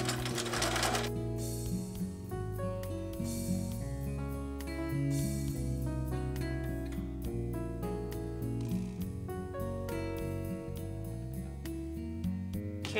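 A sewing machine stitches a fusible-thread binding on an art quilt table mat, giving a continuous rapid mechanical whir and clatter close by. Musical tones sound throughout and nobody speaks.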